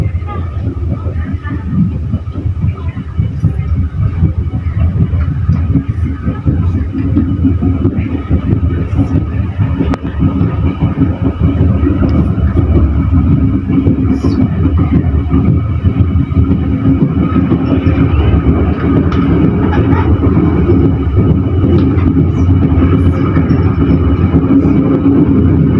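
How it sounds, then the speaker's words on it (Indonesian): Steady low rumble of a Pasundan Tambahan passenger train arriving and stopping at Sragen station, with a continuous mechanical drone and faint murmur of voices throughout, fairly loud and unbroken. "Perjalanan kereta api Pasundan Tambahan sudah masuk dan berhenti di stasiun Sragen"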